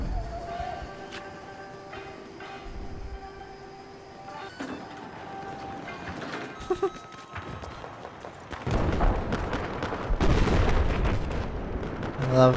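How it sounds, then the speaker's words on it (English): Gunfire in the video game Battlefield 4, scattered sharp shots and bursts over steady game music, growing denser and louder in the second half. "I love being just casually in an elevator when a bunch of gunshots are going off"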